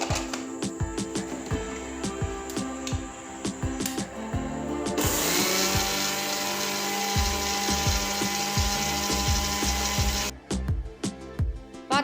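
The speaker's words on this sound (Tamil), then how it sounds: "இந்த ரவை நீங்கள் மிக்சியில் போட்டு கொஞ்சம் நைஸாக அரைத்து கொள்ள வேண்டும்." A mixer grinder grinding rava (semolina), with jerky on-off pulses of the motor and rattling grains, then a sustained loud whirring run for several seconds before it stops and rattles again; no voices.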